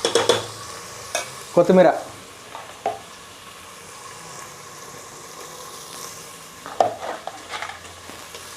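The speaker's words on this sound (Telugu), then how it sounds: "మంచిగా కలుపుకున్నాం కదా, కాస్త వేగనియాలి అల్లం వెల్లిగడ్డ కూడా" Onions, ginger-garlic paste and turmeric fry in a pan for goat head curry, with a soft continuous sizzle under several sharp scraping stirs and clanks, and a brief spoken word early on.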